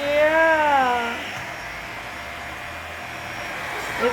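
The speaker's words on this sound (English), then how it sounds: "Such a good vacuum." A vacuum cleaner runs with a steady, whooshing motor drone that continues evenly throughout, with a voice speaking briefly over it at the start.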